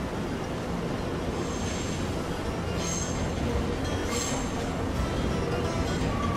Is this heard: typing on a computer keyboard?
no